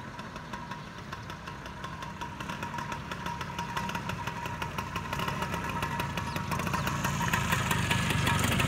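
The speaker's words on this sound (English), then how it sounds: "Little hot rod A on her Vespa sidecar rig." A Vespa scooter with a sidecar rig runs steadily, its small engine puttering with a rapid regular beat that grows louder as it approaches.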